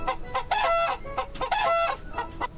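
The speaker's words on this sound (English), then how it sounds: "And I have a chicken." Chicken in the video game Grand Dude Simulator, several loud, close clucks and squawks in rhythmic bursts, no talking.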